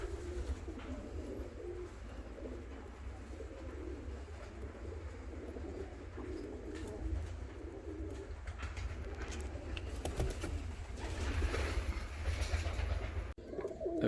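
Homing pigeons in a loft give low, rolling coos that blend into a steady murmur against constant background noise, with no voices heard.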